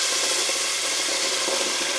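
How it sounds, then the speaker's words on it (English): Steady, bright sizzling of tomato base frying in hot oil for jollof rice, a continuous crackling hiss with no talking. "You can hear that's nice and hot and sizzling."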